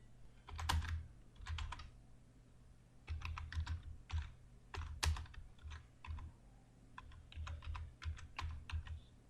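Fingers type on a computer keyboard in quick irregular bursts of clicky keystrokes, close and fairly soft, pausing briefly between words with no talking.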